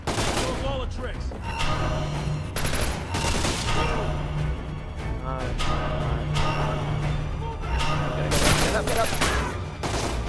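Sustained gunfire and bursts of automatic weapons in the stealth shooter Splinter Cell: Conviction, loud and close, mixed with explosions and game music, while voices shout over the shooting.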